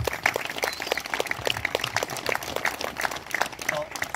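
Scattered, moderate applause from a club audience for the club president, uneven individual claps over a few seconds with some talk underneath.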